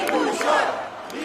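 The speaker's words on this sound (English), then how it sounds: "Thousands gathered in the center of Bucharest to cheer Nicusor Dan as the future president of Romania" A large crowd in central Bucharest cheering for Nicusor Dan, a brief, dense roar of many voices shouting together at election night.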